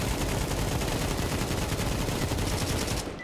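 Dense, loud automatic gunfire fills a shooter video game, a rapid continuous barrage of shots that cuts off abruptly near the end; no talking.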